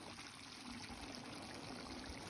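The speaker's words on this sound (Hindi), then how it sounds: "मैं थोड़ा सा पानी भी डाल ली हूँ" A little water is poured into bitter gourd and kundru cooking with spices, a soft, continuous trickle and splash running steadily throughout.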